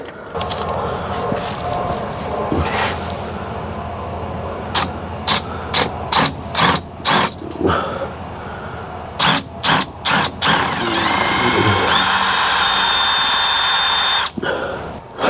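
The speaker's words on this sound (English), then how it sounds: "I think we might have to drill this out." A drill bores into a rivet on a Case 580C backhoe brake, a grinding whir in a run of short, regular bursts, then a longer high-pitched steady drilling stretch up close in a shop.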